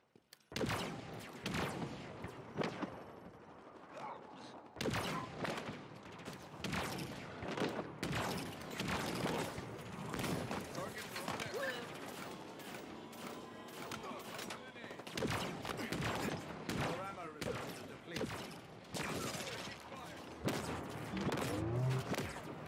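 Rapid gunfire from Halo Infinite multiplayer, with dense bursts of shots and blasts firing almost nonstop, loud and close, with short pauses between volleys.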